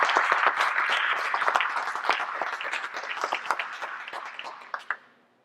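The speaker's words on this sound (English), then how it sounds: "I'm going to give you a round of applause" A conference keynote audience breaks into sustained applause, dense clapping from a large crowd that holds steady, then thins and fades out with a few last claps.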